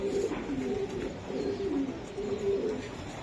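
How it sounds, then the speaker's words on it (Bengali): Racing Giribaz pigeons coo in a steady rolling series of low throaty calls, close and clear with no talk over them. "কত বড় দুইটা কবুতর"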